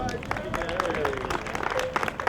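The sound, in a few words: audience applause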